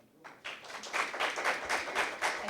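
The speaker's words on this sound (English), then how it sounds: "Another round of applause for Lillian Munoz, the representative of the Antigua Girls High School." Audience applause for a student speaker at a school impromptu speaking competition final in Antigua, a brief, dense round of clapping that swells and holds steady.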